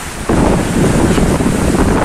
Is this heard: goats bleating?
no